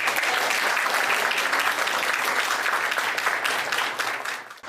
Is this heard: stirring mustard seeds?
no